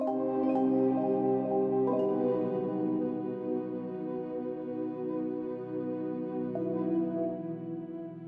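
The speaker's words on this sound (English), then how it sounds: "So you can obviously tell there's a flute in there, and then the marimba obviously is a instrument made of wood" A woody marimba layered with a flute in a cinematic EDM track plays a sustained, steady melodic passage with soft mallet strikes over held tones, unbroken throughout.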